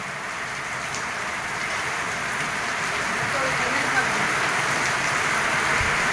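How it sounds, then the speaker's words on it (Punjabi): Steady, dense rain hisses throughout, a continuous broadband wash of water falling on surfaces without pause. "ਫੁੱਲ ਮੀਂਹ ਆ ਬਾਈ ਦੇਖੋ"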